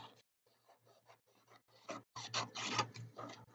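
Paper being trimmed for a notebook page, a string of short, quiet rasping cuts in a halting rhythm that grows longer and busier toward the end, close up with no talking.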